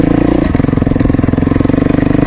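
An old Kawasaki KDX dirt bike pulled out of a shed, its engine running loud and close with a rapid, even two-stroke thrumming pulse and slight clatter throughout.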